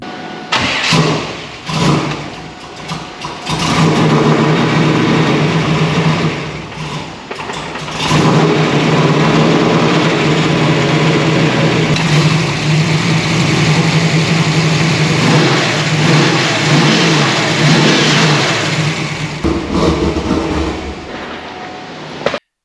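An LT1 V8 in an F-Body car cranks and starts roughly on E85 fuel, with stuttering catches before settling into a loud, uneven idle with occasional revs close by.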